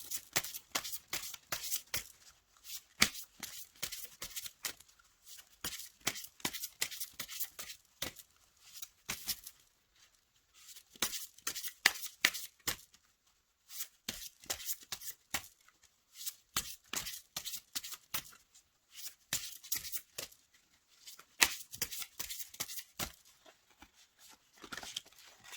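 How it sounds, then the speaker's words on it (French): Oracle cards being shuffled by hand, heard as quick papery riffles in repeated bursts with short pauses between them, close and alone with no talking. "je vous propose de battre les cartes et on va en tirer une"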